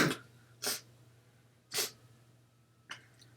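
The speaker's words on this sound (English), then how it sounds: "I don't know where that sneeze came from, but that was a random sneeze as well" A person sneezes indoors, three sharp bursts spaced about a second apart, the first loudest and the last fainter, each a quick close blast of breathy noise over a quiet low hum.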